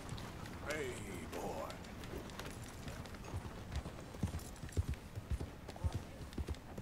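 Horse hooves clip-clop steadily in Red Dead Redemption 2, a near, uneven patter of sharp thuds that grows more pronounced toward the end, set against a low ambient bed with faint chirping early on and no speech.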